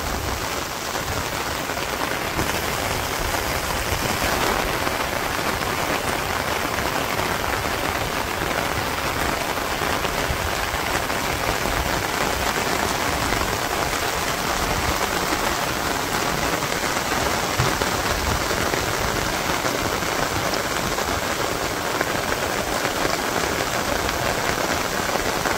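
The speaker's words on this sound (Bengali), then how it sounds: "টিপ টিপ টিপ টিপ বৃষ্টি পড়বে আনছে।" Steady rain pours on a village setting in Bengal for the whole stretch, a dense continuous hiss of drops striking surfaces, even and close, with no voices over it.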